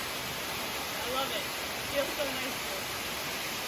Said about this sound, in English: it feels so nice to be next to this waterfall right now. Jones Falls.